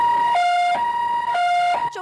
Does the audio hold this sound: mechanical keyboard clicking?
no